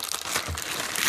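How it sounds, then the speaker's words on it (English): Thin plastic bag crinkling as a budget prepper knife package is opened by hand, a close, steady crackle of rustling and crunching plastic lasting about a second. "It does come inside this plastic bag"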